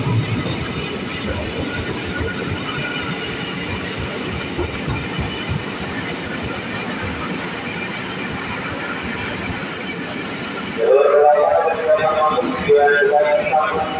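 A KRL TM 8000 electric commuter train pulls away steadily from Manggarai station, wheels clattering and motors humming, then a louder, closer rumble near the end as it passes.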